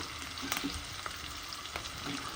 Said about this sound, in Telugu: మనం ఆల్రెడీ వాష్ చేసి పెట్టుకున్న మునగాకు ఇందులో వేసి ఫ్రై చేసుకుందాం